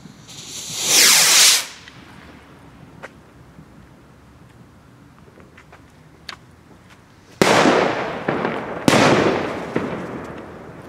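A Funke Super Gemini firework rocket whooshes up with a rising hiss, followed later by two sharp bursting explosions with crackling tails over a hill, heard from a moderate distance.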